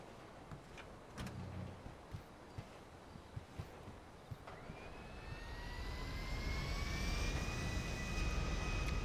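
A luxury plane's jet engines in Grand Theft Auto Online spool up, rising from a low hum with scattered clicks into a loud, whining roar that builds steadily and holds near, with no talk over it.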